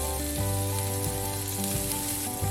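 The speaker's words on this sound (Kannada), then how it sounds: "ಈಗ ಒಂದು ತವಾದಲ್ಲಿ ಸ್ವಲ್ಪ ಬೆಣ್ಣೆ ಹಾಕಿ ಇದಕ್ಕೆ ನಾನು ಸ್ವಲ್ಪ ಈರುಳ್ಳಿ ಹಾಕ್ತಾಯಿದ್ದೀನಿ" Onion and tomato frying in butter on a tawa, a loud constant sizzle with a steady hum underneath and occasional soft knocks, no voices.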